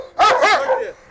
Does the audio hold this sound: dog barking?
yes